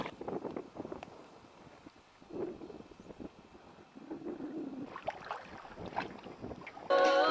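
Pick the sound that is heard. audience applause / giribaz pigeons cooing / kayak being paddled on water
kayak being paddled on water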